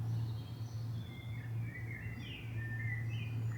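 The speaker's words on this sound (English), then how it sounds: "you can hear birdsong so clearly" Faint bird calls chirp now and then high above a steady low hum, distant and soft throughout.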